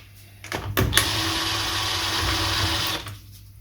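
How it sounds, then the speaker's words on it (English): A Triumph Trident T150V engine being worked on during removal of cylinder head studs, with a close, loud motorised whir that runs steadily for about two seconds and then stops. "Right, I'm going to take the studs out now"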